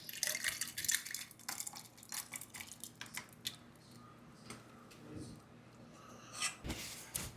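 Chili crisp oil spooned and poured slowly into a jar, giving soft wet drips and squishy splashes with faint clinks of glass and utensils, close and fairly quiet throughout.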